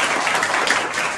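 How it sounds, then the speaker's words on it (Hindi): A short burst of loud, dense clapping fills a training classroom as students applaud together; the sound stays even and unbroken throughout. "जोरदार तालियां बजाओ इनके लिए।"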